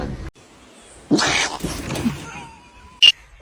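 Domestic cats, kittens among them, caught at home in a couple of short, fairly loud vocal bursts with quiet pauses between, followed by a brief sharp cry near the end.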